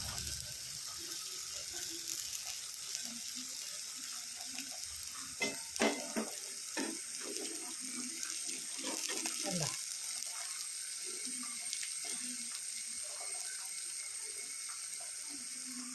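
Kilimeen (threadfin bream) fish fries Kerala style in a small amount of oil, a faint, steady sizzling hiss with occasional scraping and clattering in the middle.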